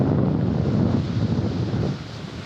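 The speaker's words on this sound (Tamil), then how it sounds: "காற்று சூப்பராக அடிக்குதுங்க." Strong wind buffets the microphone on the coast at Kasaragod, Kerala, a loud, steady rushing roar with no voices, easing slightly near the end.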